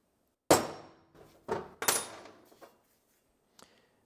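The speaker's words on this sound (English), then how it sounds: "So I just center punch it." A few sharp metallic taps of a hammer on a center punch marking a drill hole on a motorcycle part, one loud strike followed by lighter hits and fading rings, with quiet gaps between.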